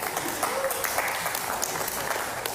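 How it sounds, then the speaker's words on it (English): Modest applause at a Model United Nations conference closing ceremony, a steady patter of scattered clapping hands, fairly quiet and even across the short stretch. "Clapping is in order."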